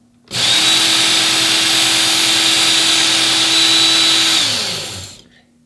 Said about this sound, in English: I'm gonna swipe this through here and see if I can get this thing sharpened up.